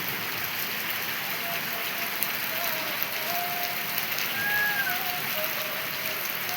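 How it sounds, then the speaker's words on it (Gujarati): Heavy rain pours in a dense, constant hiss on surfaces, steady and close throughout, with faint distant tones drifting in behind. "બહુ જોરદાર વરસાદ આવી રહ્યો મિત્રો"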